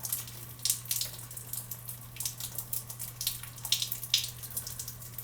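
Water draining back through an opened well water system with a rust-flushing filter, a soft steady trickling and splashing with small drips, near and fairly quiet over a low constant hum.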